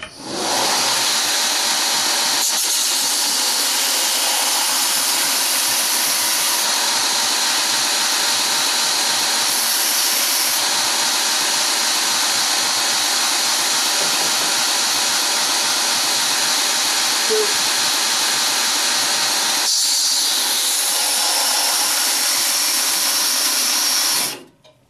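A power sander grinds G10 knife handle scales with 60-grit abrasive, a loud steady broadband whine running almost unbroken for the whole stretch, with brief dips around three and twenty seconds before cutting out at the end.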